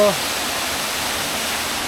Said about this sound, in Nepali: यता माथि टक्क पानी परिरहेको छ